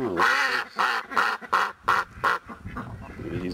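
A duck quacks repeatedly in a quick series of six or so loud, raspy calls close by, then softer noise.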